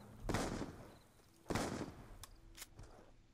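Shotgun blasts from Black Ops 2 Zombies sound as three sharp, fairly faint reports roughly a second apart, each with a short tail, over a quiet background.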